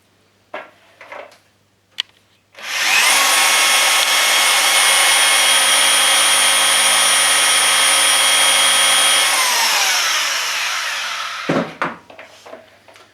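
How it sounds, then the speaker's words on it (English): Power drill driving a Forstner bit into timber to bore a blind hole: a steady, loud whining hum holds for about seven seconds before winding down, with brief handling knocks before and after. "So the Forstner bit drills the blind hole."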